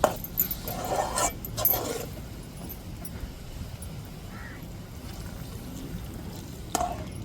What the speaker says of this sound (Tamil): மிச்சம் இருக்கிற பாலையும் நம்ம சேர்த்துக்கிடுவோம்